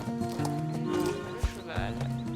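A horse in a western ranch video game whinnies and clops its hooves in a short, close burst, with game music or ambience underneath.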